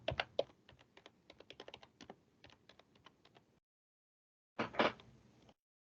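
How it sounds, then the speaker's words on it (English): Fingers type on a computer keyboard in a quiet room, a quick uneven burst of close key clicks that stops, then a short final flurry of keystrokes after a pause. "If I just type here."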